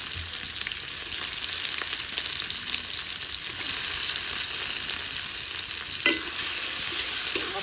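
Masala paste of onion, ginger and cumin frying in oil for chicken biryani, a steady crackling sizzle broken by occasional scrapes and knocks of a stirring spoon, fairly close, with no voices.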